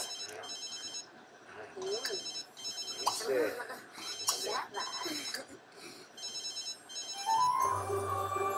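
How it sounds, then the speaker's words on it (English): A phone in The Sims 3 rings in repeated bright electronic trill bursts, steady and insistent, while a person talks over it, ending with a short musical chime. "Oh, whose phone is ringing?"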